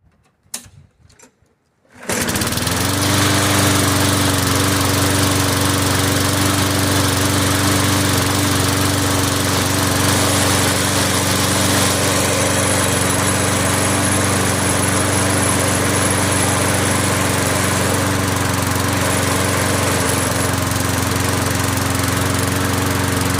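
A brief quiet moment, then a small Husqvarna lawn mower engine starts after a cable replacement and keeps running at a steady, loud drone.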